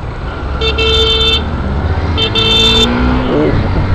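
Car horns honk in heavy, slow-moving traffic on a busy urban avenue in Brazil: two sustained toots of roughly a second each over a steady road rumble, with someone talking in the background.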